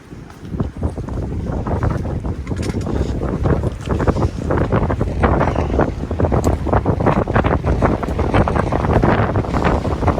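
Strong wind gusts across a rock ledge in Linville Gorge, roaring and buffeting the microphone continuously at close range with no voices.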